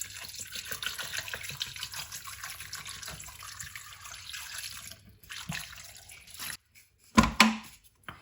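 Water is poured from a 1.5 litre plastic bottle into a pot in a home kitchen, a soft continuous trickle, broken by a brief pause and a few sharper splashes and clunks near the end.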